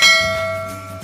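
A bright notification bell sound effect rings once with a clear metallic ding and a long shimmering decay, loud and alone with no talking.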